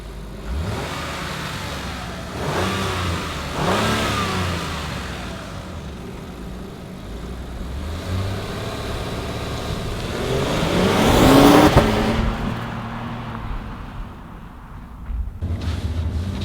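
A 2022 Acura MDX Type S Ultra SUV's engine accelerates hard, heard from inside the cabin: the engine note climbs in rising sweeps, drops at each gear shift, and builds to a loud peak before easing off.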